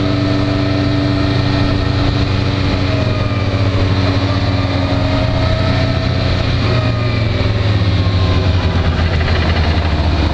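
A Suzuki SRAD motorcycle engine runs steadily and loudly up close, its low throbbing drone shifting slightly in pitch, with no talking.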